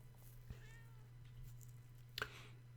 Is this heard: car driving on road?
no